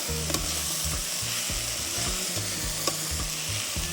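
Chopped vegetables being stirred into a pot of vegetable soup, a soft steady bubbling hiss with a few light utensil taps and scrapes against the pot.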